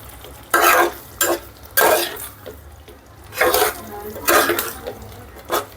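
A spoon stirs red food colouring through a thick shahi paneer gravy in a pan, with several distinct scraping strokes in bursts separated by quieter pauses, close and fairly loud, with no talking.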